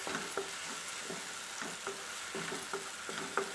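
Jackfruit frying in ghee in a pan gives a soft continuous sizzle, with repeated scraping strokes of stirring at a steady rhythm, close and fairly quiet, with no talk.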